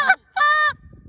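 A short reed Canada goose call produces a spit moan: a brief raspy burst followed by a longer, drawn honking moan, loud and close, then quiet.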